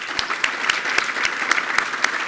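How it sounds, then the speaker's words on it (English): An audience at a premier's economic address in Surrey applauds as an MP is welcomed, steady clapping from many hands filling the room, fairly loud and continuous. "So you can applaud after I announce each person."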